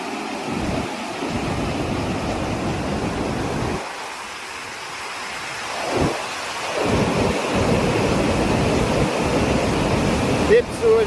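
Loud rushing water roars continuously, a dense broadband surge that dips briefly midway before swelling again.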